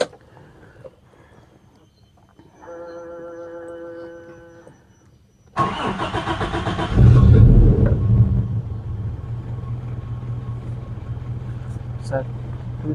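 A Toyota Kijang engine cranks and fires up after a brief voice, surging loudly before settling into a steady, rumbling idle close by.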